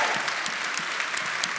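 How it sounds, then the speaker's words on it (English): Applause from an audience, a short burst of steady crowd clapping with a few sharper individual claps standing out, heard without speech. "So can we give everyone at St Michael's a round of applause?"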